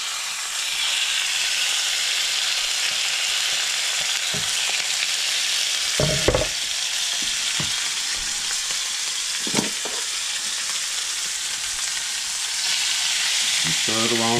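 Meat frying in olive oil in a cast iron skillet, a loud continuous sizzle with a few knocks and scrapes of stirring, no talk over it.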